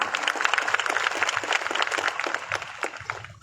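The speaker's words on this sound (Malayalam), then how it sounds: "അമ്മയ്ക്ക് ഒരു പ്രത്യേകം സന്തോഷപൂർവം ഒരു കയ്യടി കൊടുക്കുക." An audience at a large temple gathering in Malappuram claps in dense, continuous applause that holds steady and then fades toward the end.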